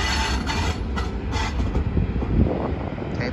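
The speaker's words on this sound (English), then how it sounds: "here goes Capital Corridor train 538" Amtrak Capitol Corridor train 538 pulling out of the station at San Jose, California, a steady loud rumble of rolling wagons with rattling wheel noise close by, no voices.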